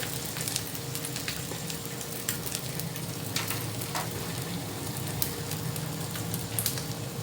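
Chopped nugget pieces fry in a pan as part of a French toast pizza made on the stovetop, giving a continuous close crackle and sizzle with scattered small pops.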